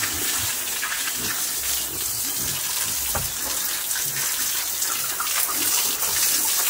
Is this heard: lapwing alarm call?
no